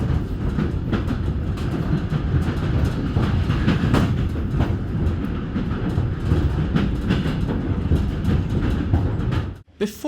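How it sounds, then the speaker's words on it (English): Steady rumbling of a locomotive-hauled train slowing on rails near Ozurgeti line, Georgia, with faint rhythmic clacking, continuous and fairly loud, ending with a sudden drop near the end. "The train starts slowing down again before crossing the Gori river as we exit the capital."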